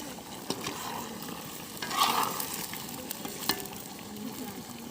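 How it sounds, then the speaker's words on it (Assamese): Meat frying and being stirred in a pan at an outdoor picnic, a soft continuous sizzle with a few light scrapes and clinks from the utensil, quiet and close with no talking. "আৰু এয়া মই মাংস বনাই আছোঁ।"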